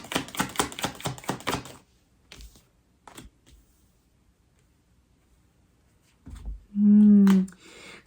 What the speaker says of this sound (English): I want to get some more cards out